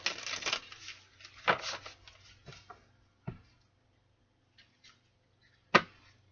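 A tarot card deck is shuffled close up in a quiet room, giving short riffling and tapping bursts, a busier flurry at first, then sparse clicks and one sharp snap near the end.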